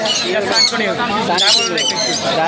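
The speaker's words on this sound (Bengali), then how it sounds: "এটা কি পাখি ভাই এটা ইউলো রিং নেক" Harsh, repeated yellow ring-necked parakeet squawks ring out close by at a bird market, overlapping with someone talking.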